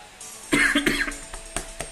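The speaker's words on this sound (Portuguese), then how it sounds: "Essa tosse tá me deixando irritadinho." Several harsh coughs and throat-clearing bursts from a man close to the mic, a cluster of rough blasts followed by two shorter, spaced coughs.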